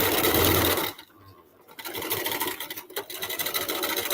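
A sewing machine back stitches fabric for scrunchies with a close, steady mechanical whir that dips briefly as it reverses, then runs on rapidly, with no voices.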